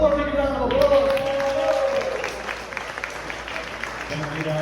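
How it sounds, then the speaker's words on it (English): A crowd applauds at a Miami Made community gathering, a dense, steady wash of clapping that runs the whole stretch, with a voice speaking over the opening moments. "One more big round of applause."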